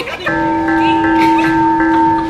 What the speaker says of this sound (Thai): กดกระดิ่งกริ๊งกริ๊งกริ๊งกริ๊งกริ๊ง